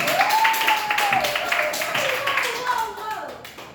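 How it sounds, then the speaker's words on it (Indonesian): A class of students claps in a classroom, steady patter of many hands, while someone speaks over the applause. "Tepuk tangan dulu"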